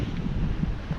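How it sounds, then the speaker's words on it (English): Wind blowing beside a lake, a steady low rush and microphone buffeting with no other sounds, close and continuous. "It's a bit windy as well."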